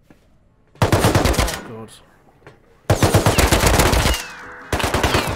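Automatic AK rifle fire in a video game near an oil rig: two long, rapid, loud bursts of shots close up, a short third burst at the end, and a brief spoken exclamation between them.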